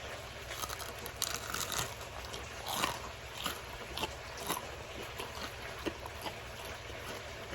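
Crisp crunching bites into deep-fried food and crackles repeat irregularly up close, quiet but distinct over a faint background hum.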